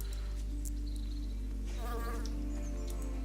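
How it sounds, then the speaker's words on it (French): Small mosquito-like insects buzz in a fantasy role-playing game, a steady thin whine over a constant low hum, with faint high chirps scattered throughout. "De temps en temps vous entendez des espèces de moustiques ou autres"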